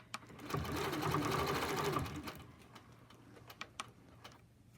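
A sewing machine stitching along a quilt border, a rapid whirring run for about a second and a half that slows and stops, followed by a few scattered clicks and taps.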